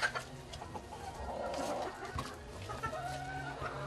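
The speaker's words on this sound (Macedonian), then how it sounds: "Шарпланинскиот пејач е македонски вид петел, кој импресионира со должината на своето пеење." A Sharplanina singer, a Macedonian rooster breed known for its long crow, clucking and calling at moderate distance over a faint background with other birds.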